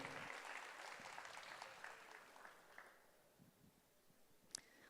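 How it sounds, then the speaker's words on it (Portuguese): Audience applause at a municipal conference welcoming a speaker, a faint, distant wash of clapping that thins out into scattered claps toward the end. "Palmas para ele."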